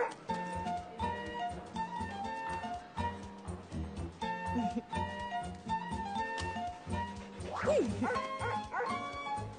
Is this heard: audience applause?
no